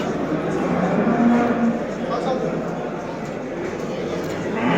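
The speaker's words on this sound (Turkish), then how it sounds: "Burada da güzel büyük bir inek var arkadaşlar" A large cow lets out a low, drawn-out moo nearby amid outdoor background noise at a livestock market in Göksun, Kahramanmaraş.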